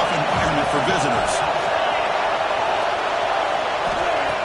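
In a college football video game against Texas A&M, a stadium crowd keeps up a steady, loud roar, a dense wash of cheering with no breaks, beneath a commentator talking.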